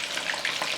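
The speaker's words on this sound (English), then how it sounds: "They're kind of like deep frying." Battered shrimp deep frying in hot oil, giving a dense, steady sizzle with bubbling crackle, close and fairly loud, with no talking.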